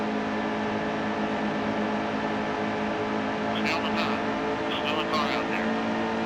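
Race cars in the NASCAR Heat 2 video game drone steadily as a pack, a continuous engine hum running throughout with brief higher-pitched bursts near the end, while someone talks over it.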